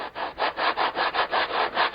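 80-grit sandpaper is rubbed over thin wood sheeting in steady back-and-forth strokes, about nine even rasping passes, close and loud with no talking.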